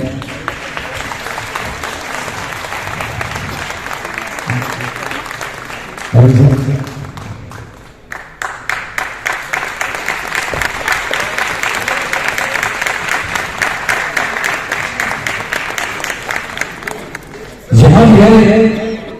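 Applause from the audience at a big musical show remembering a singer and another singer's songs, rhythmic crowd clapping building and sustained, with brief bursts of talk or thumps at the start and end.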